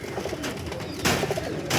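Pigeons from a lot of twenty birds offered for sale coo in low, throaty, rolling calls with a couple of louder bursts, heard close and without any talk.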